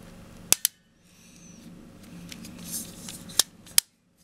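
An auxiliary contact block snaps onto an ABB modular circuit breaker, giving a few sharp, close plastic clicks: a quick pair near the start and two more toward the end, with a quiet rustle of handling in between and no talk.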